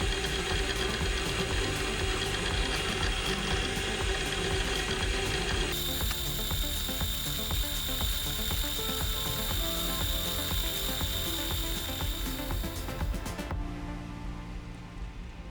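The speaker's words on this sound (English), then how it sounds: "each hole is reamed, in this case with a simple shop-made reamer, to more precisely size the hole" A shop-made reamer turned by hand through holes in a small metal bridge part for a dial indicator, giving a continuous close grinding, clicking scrape in a steady ratcheting rhythm that fades slightly at the end.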